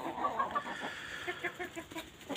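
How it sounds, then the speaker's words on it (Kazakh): Chickens out in the yard are fed grain and bread on a warm day, giving a string of soft, close clucks in an uneven rhythm with nothing else to hear. "Тауықтарды шығарып, далаға шығарып жем беріп жатырмыз."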